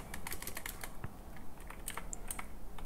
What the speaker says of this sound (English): Excuse the loud keyboard,